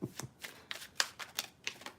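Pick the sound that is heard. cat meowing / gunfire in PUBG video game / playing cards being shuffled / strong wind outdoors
playing cards being shuffled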